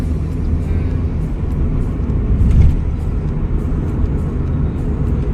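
A car driven through traffic, heard from inside as a loud, continuous low rumble of engine and road noise that swells slightly midway, with no talking over it.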